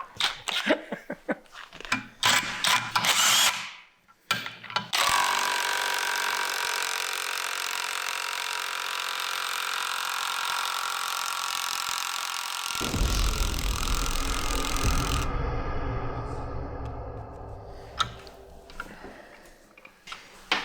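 A cheap 18-volt cordless impact wrench works a grade 5 lug nut on a semi truck: a few short bursts, then a long sustained run of loud hammering that shifts pitch midway, followed by scattered clicks and handling noise.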